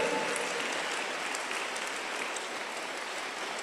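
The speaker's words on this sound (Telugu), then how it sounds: "చప్పట్లు కొట్టాలి" A church congregation claps together at a live service, a sustained, even patter of many hands that stays moderately loud and steady for a few seconds without speech.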